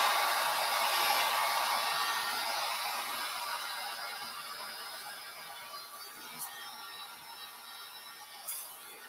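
A blow dryer runs steadily to dry freshly brushed Fusion milk paint, a continuous airy whoosh that holds at one level and fades slightly, with a couple of faint clicks near the end.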